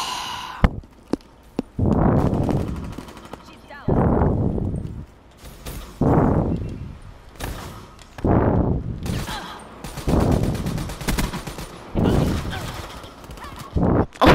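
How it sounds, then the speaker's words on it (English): Rapid-fire gunfire in the multiplayer video game Call of Duty Black Ops III, in loud close bursts that repeat about every two seconds with brief gaps between them. "I didn't know this is a rapid fire."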